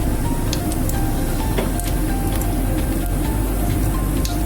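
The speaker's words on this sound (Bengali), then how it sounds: "তেলটা গরম হয়ে গেছে, আমি চিংড়ি ভাজার তেলেই আমি শুকনো লঙ্কা দুটো ফোড়ন দিয়ে দিলাম" Dry red chillies and cumin seeds tempering in hot oil left from frying prawns, producing a dense, close, steady crackling sizzle with scattered sharper pops throughout.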